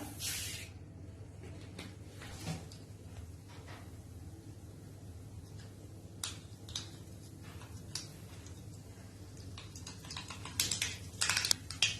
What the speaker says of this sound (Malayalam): ഇനി നമുക്ക് ഇതിലേക്ക് കുറച്ച് കടുക് ഇട്ട് കൊടുക്കാം.